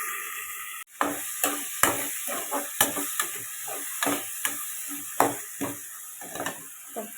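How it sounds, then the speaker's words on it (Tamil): Tomatoes cook in a pan for a Tamil squid thokku, with a quiet continuous sizzle and a string of sharp irregular knocks and scrapes like a utensil stirring against the pan; no talking. "தக்காளி வந்து வதங்கட்டும்."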